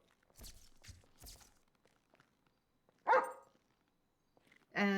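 A puppy barks during a city council meeting: a quick burst of three close yaps, a pause, then two more sharp barks spaced apart in an otherwise quiet room.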